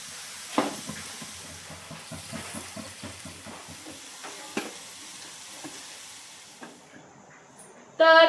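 Phagla fritters (kapa) made from rice flour and semolina batter sizzling in hot oil in a village kitchen in Konkan, a steady crackling fry with a few sharp pops and a louder burst at the very end.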